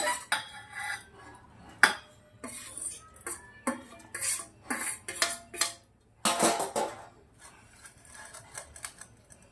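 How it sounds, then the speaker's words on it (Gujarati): A spoon clinks and scrapes repeatedly against a bowl while weight-loss salad ingredients are tossed together, in irregular quick strokes over a quiet background hum. "મિક્સ કરી દઈશું આપણે આવી રીતે"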